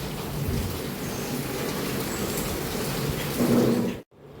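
Steady, dense rain hissing close by, with a low rumble underneath, continuing evenly until it cuts off abruptly near the end.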